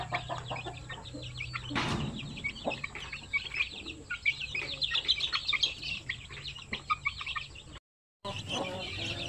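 Pure Basilan chicks, about a week old, peep constantly in a dense, high-pitched chorus of overlapping chirps, close and steady, with a brief silent gap near the end.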